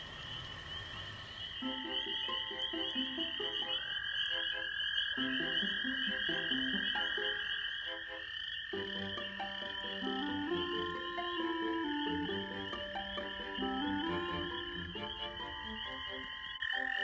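Toads trill and croak steadily, several overlapping calls with a sustained high buzzing chorus behind them, fairly distant and continuous.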